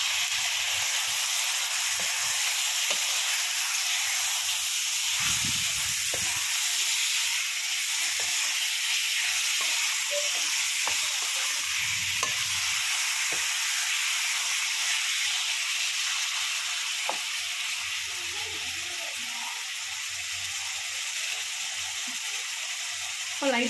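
Half a kilogram of chicken sizzles and hisses steadily in a hot pan for pepper chicken, a continuous broad frying crackle throughout with a few faint clinks.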